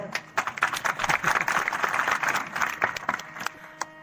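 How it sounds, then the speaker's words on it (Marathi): An audience at a Marathi kirtan breaks into scattered, uneven hand clapping that rises and falls over a few seconds, fairly close and lively, with some voices mixed in. "अहो टाळ्या वाजवायच्या अशा तर चांगल्या तरी वाजानं त्या"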